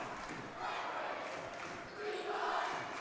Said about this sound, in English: Crowd is going wild,